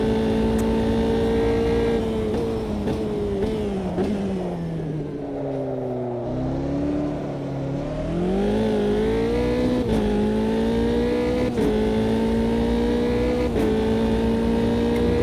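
Formula 3 race car lapping Oulton Park, its engine droning loud and close throughout, pitch dipping and rising through gear changes and corners as it lifts off and accelerates again.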